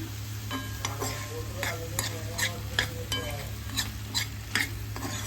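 Bottle gourd milk curry gets stirred in a pan with steady, rhythmic scraping strokes about twice a second over a low simmering sizzle, close and clear.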